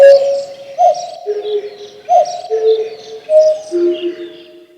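Sampled cuckoo call played on a keyboard, repitched into tonal phrases that recur about every 1.2 seconds, with faint high bird-like chirps behind it and no talking.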